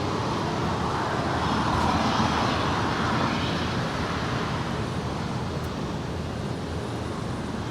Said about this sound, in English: That is Atlas Air Flight 8765 coming in from Anchorage. It's a 747-400 freighter.